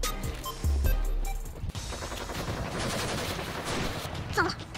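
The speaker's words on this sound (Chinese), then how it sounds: "有枪声，过去看看。" Gunfire from a battle royale video game: rapid bursts of shots crackle through the clip, loud and close, with a heavy thump near the start.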